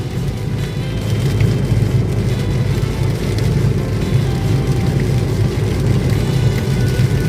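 Steady rain drums on a car driving through Ko Phet, Hua Sai district, Nakhon Si Thammarat, Thailand, over a constant low road and engine rumble, loud and unbroken throughout.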